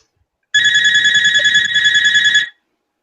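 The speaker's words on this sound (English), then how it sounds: "It's the phone ringing." A phone rings with a loud, close electronic trill, a warbling tone pulsing rapidly for about two seconds with a tiny break midway, then stopping into silence.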